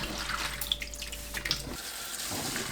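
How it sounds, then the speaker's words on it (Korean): Cabbage rinsed under a running kitchen tap, a steady close hiss of flowing water with small splashes and a brief shift near the end as the leaves are moved. "헹궈주세요."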